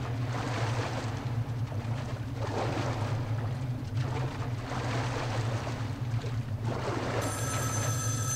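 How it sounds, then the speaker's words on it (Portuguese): A telephone rings in the Metro Last Light shooter game, a repeating electronic ring in spaced bursts over a constant low mechanical rumble, with a brighter bell tone at the very end. "Opa, telefone."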